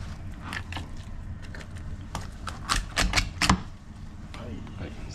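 A knife is forced through sea bream bone, producing a series of crunchy, clicking cracks that cluster into a quick burst of snaps.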